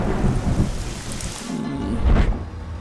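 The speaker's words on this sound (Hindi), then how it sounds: "बारिश पसंद है तो फिर बारिश में भीगो।" Heavy rain pours during a thunderstorm in a dubbed South Indian action film, with deep rumbling thunder rolling beneath a dense hiss of falling water.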